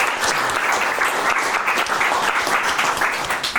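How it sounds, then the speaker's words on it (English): Loud, steady applause from the audience at a startup demo day pitch event, dense clapping filling the room continuously for several seconds without talk. "Please a round of applause for the amazing presentation."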